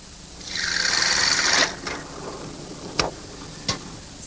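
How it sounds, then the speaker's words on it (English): A 3/4 inch plug cutter bores into a maple blank, a high whirring drill cut lasting just over a second, followed by a few sharp knocks and clicks. "this is what is known as a 3/4 inch plug cutter"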